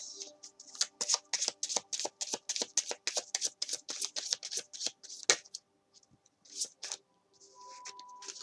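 Oracle card decks are shuffled close up in a long run of quick papery riffles and flicks, then a pause and a few scattered card slaps with faint background hum.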